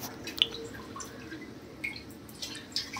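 Water dripping into a kitchen sink while spinach is rinsed, a few faint, scattered drops over a low, steady background with no talking.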